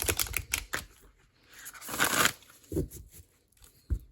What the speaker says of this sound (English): all of the Blue Angel decks that I have actually shuffle really nice